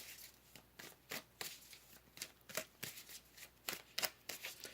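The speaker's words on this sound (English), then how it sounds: "Let's pull some more cards here" Tarot cards are riffled and shuffled up close in quick, repeated bursts of crisp flapping, each burst separated by brief pauses, with no talking.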